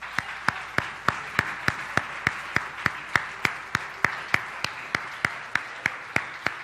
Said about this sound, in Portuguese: vamos aplaudi-lo